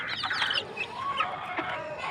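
Desi hens and their chicks cluck and peep together in a small enclosure, a close, busy mix of soft clucks and high chirps running steadily without talk.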